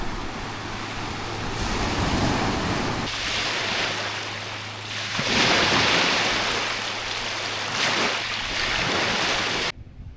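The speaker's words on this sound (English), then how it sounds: "I'm gonna go sit on the beach a little bit though. The tide is on its way back out." Ocean waves wash onto an Alaskan beach at a rainforest coast as the tide goes out, a steady broad roar of surf with swelling peaks, roughened by wind buffeting the microphone and left alone without talk.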